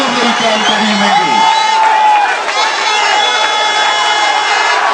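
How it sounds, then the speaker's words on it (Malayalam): A loud crowd cheers and whoops at an all-Kerala tug-of-war competition, with shouting voices and a dense roar filling the scene continuously, mixed with excited calls. "ഈ കൈയടിയാണ് സത്യം."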